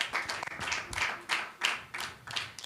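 Children clapping at a Sunday school Bible quiz, a loose series of soft group claps in uneven bursts, faint and slightly distant with no talk.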